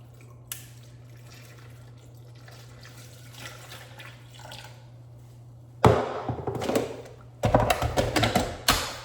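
Water splashes as it is poured into a container alongside protein powder and greens, two loud bursts of gushing after a quiet stretch with faint clicks.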